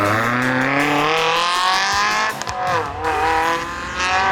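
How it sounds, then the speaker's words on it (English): A high-revving Ferrari F430 roars past close by leaving a cars and coffee meet, engine pitch sweeping up and down with a loud, sustained howl and a dip as it passes. "And then the Ferrari F430 right here."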